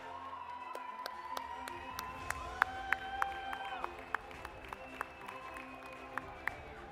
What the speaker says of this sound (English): Next, a big round of applause, please, for Jude Almir.